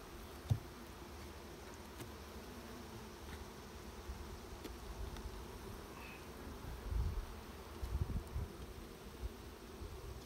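Honey bees buzz around an open hive at a golf course, a continuous soft drone of many insects with faint rustles and a few brief nearby thumps.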